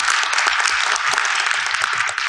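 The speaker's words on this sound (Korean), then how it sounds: "박수 한번 우리 크게 한번 주도록 하겠습니다." Assembly audience at a Korean higher-education general meeting applauding the education minister, a brief, loud, steady burst of clapping with no voices.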